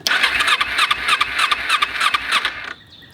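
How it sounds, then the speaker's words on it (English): Motorcycle with the choke on cranking, a rapid rhythmic whirring starter with pulsing turnover, close and loud for under three seconds before cutting off abruptly. "when you crank it, turn on the choke, and you can see it wants to start"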